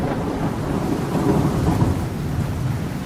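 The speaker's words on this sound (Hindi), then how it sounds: "तभी बाहर जोर से बारिश और तूफान आने लगता है" Heavy rain pours in a dense, unbroken roar while low thunder rumbles continuously beneath it, steady and loud with no voices present.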